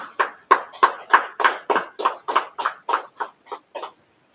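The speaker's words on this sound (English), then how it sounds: "Yeah, clap it up." About fourteen distinct hand claps from a small audience, loud and close, in an uneven rhythm that thins out and fades toward the end, followed by silence.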